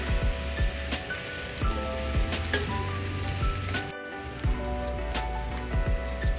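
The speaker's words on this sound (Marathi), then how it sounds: "मूग घातल्यानंतर एकजीव करून घ्यायचा आहे मसाल्यामध्ये" Whole moong beans being stirred into frying homemade spice masala, a dense crackling sizzle with regular spoon scrapes and knocks against the pan, close and steady.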